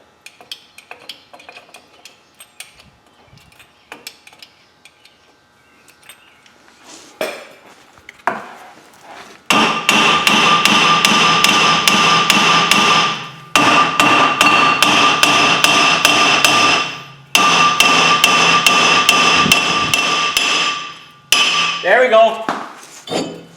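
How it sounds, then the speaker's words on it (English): A hammer strikes a seized front brake rotor on a 2008 Pontiac G5, first in sparse taps, then in long runs of rapid, loud, ringing metallic blows with short pauses between bursts. "try whacking her a little harder here"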